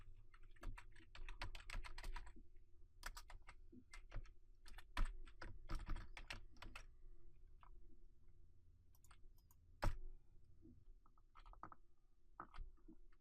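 Computer keyboard arrow keys are pressed left and right to steer a sprite character, giving a close, steady run of quick plastic clicks and taps with brief pauses and no talking.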